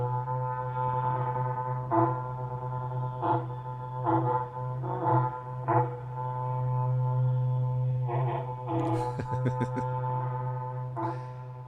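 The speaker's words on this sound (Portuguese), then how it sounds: "Pronto, berrante tocado." A berrante cattle horn blown in long, steady droning blasts with short breaks, loud and close, over a constant low hum, with no voices.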